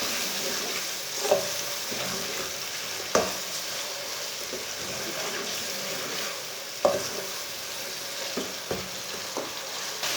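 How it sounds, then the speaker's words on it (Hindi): Finely chopped tomatoes and green chillies frying in a pan, giving a continuous sizzling hiss with occasional sharp clicks of a stirring spoon, steady and close, no talking. "2 मिनट तक पका लेंगे टमाटरों को।"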